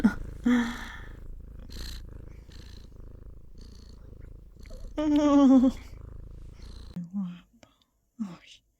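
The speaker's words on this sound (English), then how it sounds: "Does your cat also ask for bad slaps, or is it only Momo who is a little bit vicious?" A cat purrs steadily and close, a soft continuous rumble running under quiet whispered talk, with a brief meow-like vocal sound in the middle and short pauses near the end.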